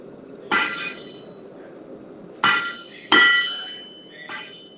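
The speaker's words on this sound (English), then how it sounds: "Now, like you were hammering that." A blacksmith's hammer strikes metal four times, each a sharp ringing clang with a short decay, spaced unevenly with quiet gaps between blows and the last two close together.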